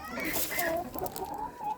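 Mixed-breed hens cluck softly in a backyard coop while being offered shell treats, a faint, low murmur of clucks and short calls, with a quiet human voice mixed in.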